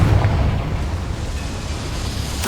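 A Confringo blasting spell goes off in Hogwarts Legacy, a loud sustained boom with deep rumble that holds steady for a couple of seconds, with no voices over it.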